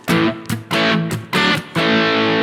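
An electric guitar played through a Marshall JVM410H amplifier with the gain at 9 gives heavily distorted chords. Five sharp, choppy strikes each ring briefly before cutting off, and the last one sustains, loud and close.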